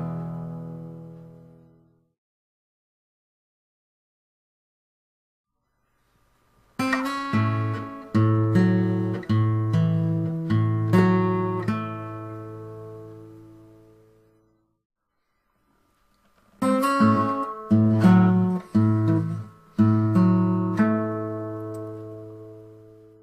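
Acoustic blues guitar riff in A played twice, with hammered-on notes over a thumping bass string in a steady boogie rhythm, each phrase ringing out after a silent gap.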